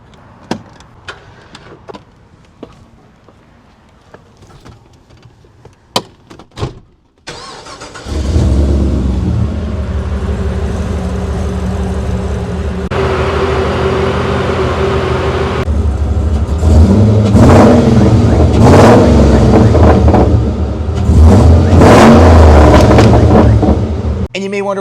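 Land Rover Defender 90 engine cranks and fires after a few clicks, then settles into a loud, steady idle with repeated revs building toward the end, heard close up with no talking.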